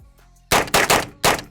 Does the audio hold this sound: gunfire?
yes